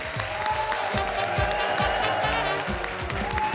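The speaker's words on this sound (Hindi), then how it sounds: "जोरदार तालियां हो जाए इनके लिए।" A studio audience on a Hindi comedy show applauds the arriving guests, with dense clapping over a loud musical backing and thumping beats.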